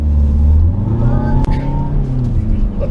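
A 2015 VW Golf Sportwagen TDI SE with a diesel engine and six-speed manual pulls hard under acceleration, its steady low drone loud and close inside the cabin while a person talks over it.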